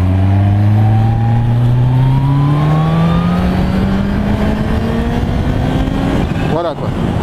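A 2016 Kawasaki H2 motorcycle pulls hard in third gear, its engine note climbing steadily in pitch, loud and close, with a rider's voice briefly over the roar near the end.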